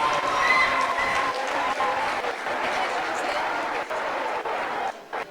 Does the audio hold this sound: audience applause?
yes